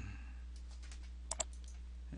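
Two crisp mouse clicks close together, quiet and close, over a steady low electrical hum while selecting walls in Revit modeling software.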